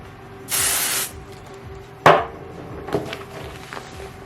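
A short, sharp aerosol hiss of spray adhesive lasts about half a second, followed by a couple of quick thuds and rustling handling noises nearby.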